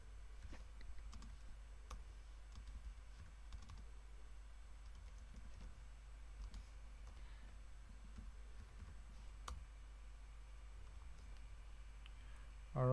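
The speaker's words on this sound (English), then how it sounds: "It becomes a bit cumbersome to keep typing this over and over" Code is typed on a computer keyboard in a steady run of close, light key clicks with brief pauses, the patter lasting over ten seconds in a quiet room.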